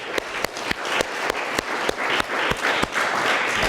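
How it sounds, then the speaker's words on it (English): Steady, rhythmic clapping from a gathered audience at a memorial celebration honoring a professor, with regularly spaced sharp claps over a broad wash of applause, fairly close and loud. "So just in honor of Professor Chatterjee, if we can just give a round of applause"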